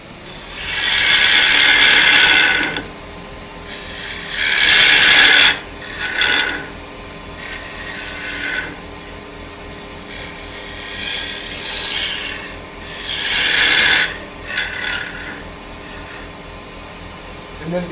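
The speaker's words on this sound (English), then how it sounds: "now what I got to do is hollow out that bottom back so that I've got a place to put this" A turning tool hollows out the bottom of a wooden bowl spinning on a lathe, making loud, harsh scraping bursts of several seconds each with short quieter pauses between them, over a steady low machine drone.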